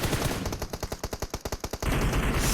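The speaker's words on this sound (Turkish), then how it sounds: "Her yerden atış geliyor. Sağımdan solumdan." Automatic gunfire in PUBG Mobile rattles in a rapid burst of about a dozen evenly spaced shots, loud and close amid dense game noise.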